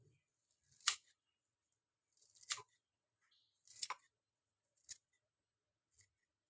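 Coriander leaves are snipped in five separate crisp cuts spaced about a second apart, close and fairly quiet against near silence.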